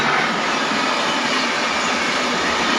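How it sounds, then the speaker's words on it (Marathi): A Pune–Solapur local passenger train rushing past close by, a loud unbroken roar of wheels and rushing air held at full level throughout, no voices. "रेल्वे किती फास्ट पळते"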